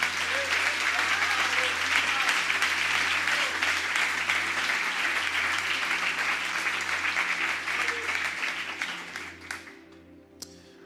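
A church congregation breaks into sustained, dense applause after a pastor's call during a sermon, loud and steady for most of the stretch, then thinning into scattered claps near the end.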